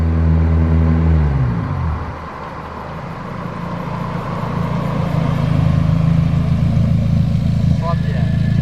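Nissan 240SX with an SR engine swap, close and loud, revving as it pulls away with a falling then rising engine note, a rough throaty exhaust drone building steadily as the car drives off.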